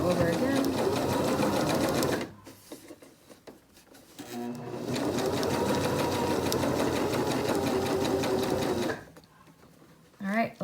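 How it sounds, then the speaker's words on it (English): A sewing machine stitching a fabric face mask runs in a steady close whir, stops briefly for a backstitch, then runs again, with a person talking over it. "Sew over, back stitch, and sew over again."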